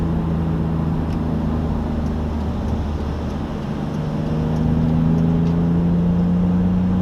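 BMW E46 M3 with its S54 engine pulling in third gear on a highway among traffic, a steady, loud drone with a rising tone and no talking.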